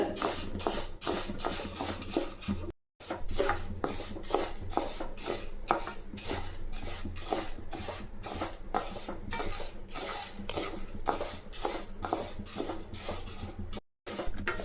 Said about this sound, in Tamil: இதை வறுத்து போட்டோம்னா அதில் இது சூடு ஏறினா போதுங்க நமக்கு.